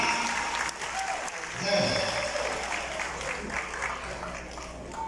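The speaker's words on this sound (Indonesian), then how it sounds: "Tepuk tangan" A crowd of volunteers at a campaign rally in Makkah applauds, broad continuous clapping with cheering voices and speech mixed in, steady throughout.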